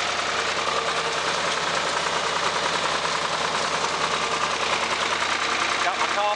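Ford 4000 tractor engine running on a small farm, a steady, loud diesel rumble with a constant rapid chugging throughout, close by.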